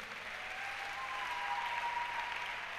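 A church congregation applauding steadily, a dense wash of clapping hands at moderate distance that sustains evenly throughout.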